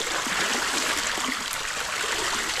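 Water gushes hard out of a pipe in a farm field, a steady, bright hissing rush that holds even for a couple of seconds with no voices.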